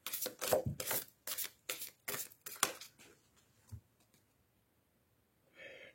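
Oracle cards with angel and Marie themes are shuffled and drawn by hand, a run of about seven quick riffling bursts, close and crisp, followed by a few soft handling sounds and near silence.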